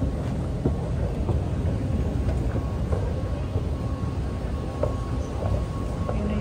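A large vehicle rumbles low and steady while pulling in at a city stop in Dubai, a continuous heavy engine drone with faint street clatter around it, no speech.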